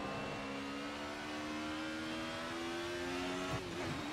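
A 1990s DTM race car in a sim racing game at Donington Park, the engine holding a steady, sustained tone with a slight pitch shift near the end, moderately faint, no talking.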